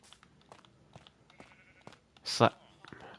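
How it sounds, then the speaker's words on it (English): A Minecraft sheep lets out a single short, loud bleat near the end, standing out over quiet game sounds and soft clicks. "There is a sheep though"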